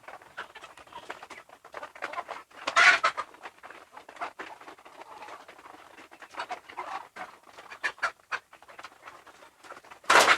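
Ducks on a farm quack in scattered calls and chatter, fairly faint, with a few louder bursts standing out against a quiet outdoor background.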